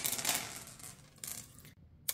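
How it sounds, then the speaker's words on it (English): A set of dice being rolled, with a quick, faint clatter of rattling hits and a couple of sharp clicks as they settle, close by and alone. "So I've decided to roll a set of dice"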